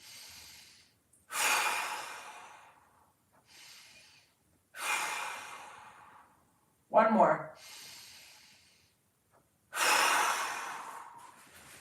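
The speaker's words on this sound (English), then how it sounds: "Here we go, 3 big breaths." Deep, slow breaths during a mobility workout: long airy inhales and exhales come in a steady rhythm, close and clear, with brief pauses between them and a short spoken cue partway through.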